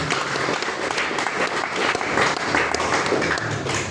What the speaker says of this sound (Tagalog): Palakpak sa ating Diyos na salamat.